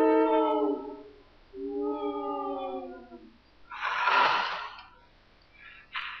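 In the video game Amnesia, two drawn-out, wavering dog howls, then a breathy rushing burst and a short sharp cry, fairly loud and close, with no talking.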